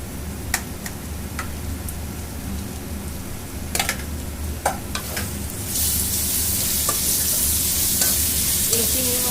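Prawns stir-fried with fresh winter spinach greens in a pan, a continuous oily sizzle with scattered ticks and scrapes of stirring, the frying swelling louder and brighter partway through.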